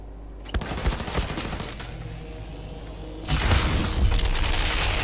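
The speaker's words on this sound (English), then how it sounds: "It's a big boy cannon." A heavy cannon firing in the video game Wolfenstein II: The New Colossus, with a sharp blast, a rattle of rapid shots, then a second loud rumbling boom that carries on to the end.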